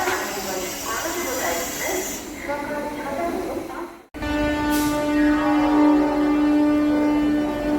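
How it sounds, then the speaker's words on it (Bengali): Howrah-Amta local train with an ICF rake pulling out of the station, a steady rumble and hiss with a sustained horn-like tone after a brief break, close by and loud, with a voice talking over it at the start. "ট্রেন ছেড়ে দিল বেশি লেট করেনি"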